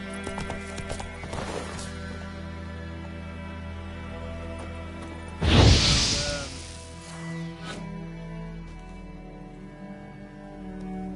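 Roach, Geralt's horse in the video game Witcher 3, clops along in hoofbeats, then lets out a loud, close neigh midway, with soft game ambience before and after.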